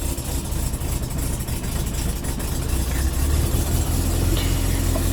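An air-cooled VW T2 camper engine with ICT34 carbs idles while warming up after a hard start, a steady loud low rumble that rises slightly partway through, with no voices.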